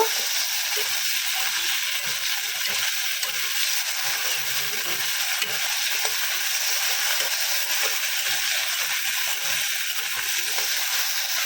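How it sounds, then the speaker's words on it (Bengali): Steady, dense sizzling of potatoes frying in a pan, continuous and fairly loud, with faint scattered clicks and stirring noises throughout. "এখন হচ্ছে আলুটাকে ভাজা করে নেব"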